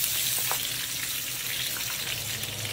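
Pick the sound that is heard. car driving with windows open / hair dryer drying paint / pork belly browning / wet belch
pork belly browning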